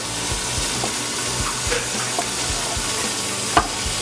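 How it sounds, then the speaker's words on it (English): Beef browns in a pot, giving a steady close sizzle and hiss of frying fat with occasional light knocks and stirring sounds. "It's going to start browning the meat and rendering off any excess fat that we don't need."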